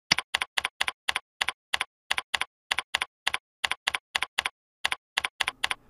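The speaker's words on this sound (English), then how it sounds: "When I'm done typing my introduction" Typing on a computer keyboard: a steady run of crisp, close key clicks in quick bursts with short pauses, loud and alone.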